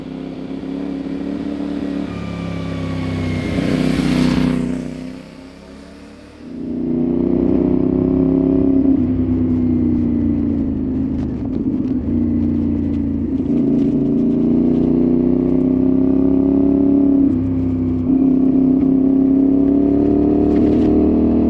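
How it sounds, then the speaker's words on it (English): A CF-Moto 450MT adventure motorcycle fitted with a lighter aftermarket slip-on exhaust idles with a deep, throaty burble and is revved several times. It rises sharply early on, dips briefly, then holds a steady rumbling run. "I replaced the OEM slip-on with a much lighter one. It's got a deeper, throatier tone, but nothing too loud or obnoxious"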